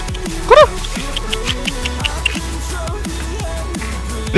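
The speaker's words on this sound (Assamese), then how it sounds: "কুকুৰকেইটা মোক দেখা পালে চিন পাই হা চবেই আহিছে" Several dogs yipping and barking in short sharp bursts, one loud yelp early and another at the end, over a noisy outdoor background with some voice.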